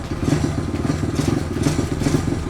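A small pit bike engine runs roughly and unevenly close by, its rapid putter pulsing with irregular knocks and clatter throughout.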